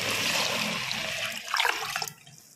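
Coconut milk and water pour into washed rice in a pressure cooker, a loud, full rush of liquid that thins into trickles and splashes before stopping.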